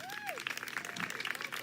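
A protest crowd outdoors claps in brief scattered applause, fairly close, with a short rising whistle-like tone at the start and some background voices mixed in.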